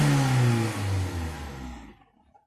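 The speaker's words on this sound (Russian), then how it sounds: "Несколько секунд выжидаю и делаю резкие перегазовки." A Lada Granta with the 11182 engine and an electronic throttle revs sharply in one loud rising-and-falling burst that fades away at the end.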